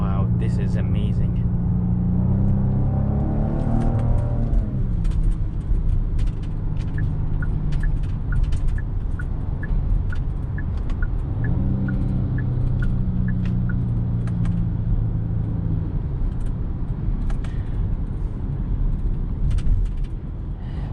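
A 2022 Genesis GV70 SUV drives in traffic, heard from inside the cabin as a steady low engine and road rumble, with other vehicles around it and rising and falling tones.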